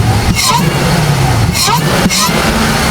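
Chevrolet Camaro ZL1 idling while warming up after an aftermarket intake install, a steady low engine drone running throughout, with a few brief swells in pitch and people talking over it.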